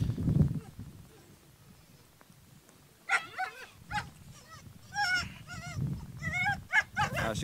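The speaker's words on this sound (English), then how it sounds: "It's a male dog." A male dog whimpers and gives short yips and barks during dog training, a close run of high, wavering cries after a quieter opening with low background noise.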